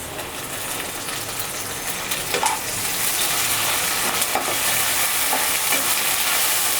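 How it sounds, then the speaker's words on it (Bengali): Ginger-garlic paste sizzles and fries steadily in a hot pan with whole spices like black and green cardamom and cinnamon, a continuous close crackle with occasional stirring scrapes and no talk. "আদা রসুন বাটাটা একটু ভেজে নেব যাতে করে গন্ধ না আসে"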